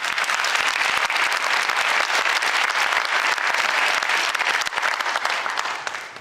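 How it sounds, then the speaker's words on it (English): A school band spring concert audience breaks into sustained applause, a dense, even wash of many hands clapping that holds steady and tapers slightly at the end. "Let's have a round of applause."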